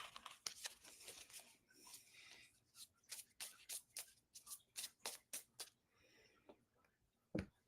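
Tarot cards shuffled by hand in a series of soft, papery riffling bursts with short gaps between them, quiet and close.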